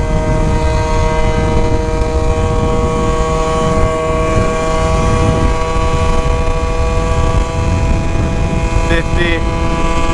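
A scooter engine with a carburetor leaned slightly drones steadily while cruising at around 25 miles per hour, a loud continuous tonal hum with wind noise and no pauses.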